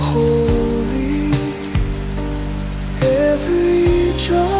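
Steady rain patters down in a continuous wash, with sustained musical tones and shifting low notes running over it.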